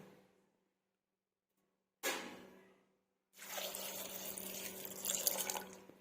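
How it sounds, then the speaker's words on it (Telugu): Water runs into a pressure cooker holding sweet corn: a short splashing pour, a pause, then a longer, steady gushing fill that grows slightly louder, with no talking. "కుక్కర్లో వేసుకొని నేను సగం వరకు వాటర్ యాడ్ చేసుకుంటున్నాను."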